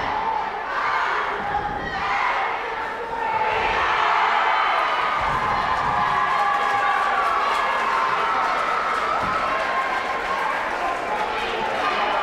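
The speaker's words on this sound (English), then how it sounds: "So we hear from the cheering section from HTCMA, rooting on their team as well." A high school cheering section roars continuously in a gym during a close boys' basketball game between HMTCA and Granby. The shouting crowd stays loud and sustained throughout, with a commentator's voice over it.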